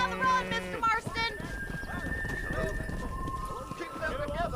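Galloping horse hooves from the Red Dead Redemption video game clip-clop in a quick, steady rhythm, joined by a neigh and game music, with voices talking over them.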